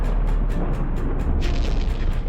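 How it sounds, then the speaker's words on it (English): A dramatized 1883 Krakatoa volcanic eruption is rendered as a loud, deep, sustained rumbling boom with a rhythmic pulsing throb and a brief surge of crackling roar midway, continuous throughout. "A deafening explosion shatters the sky. Krakatoa erupts with unrestrained fury"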